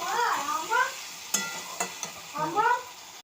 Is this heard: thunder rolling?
no